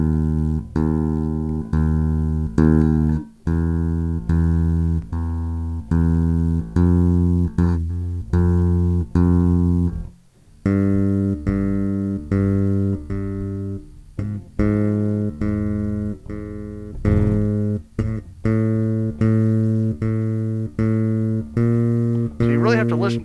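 A bass guitar played with two-handed tapping, using a first-finger bar, sounds a steady stream of loud, sustained, clean notes in an even rhythm, with one brief pause partway through and no talking over it.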